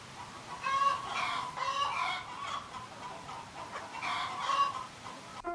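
Several chickens cluck in a farmyard, with a few rooster-like calls mixed in; the bird calls come in bursts and repeat across the whole stretch at moderate loudness.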